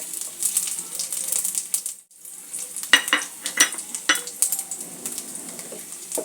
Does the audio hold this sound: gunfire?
no